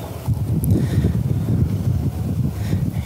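Strong wind buffeting an outdoor microphone beside a southern coastal road during a drone launch, producing a loud continuous rumble with gusting swells.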